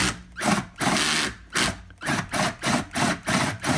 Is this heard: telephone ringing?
no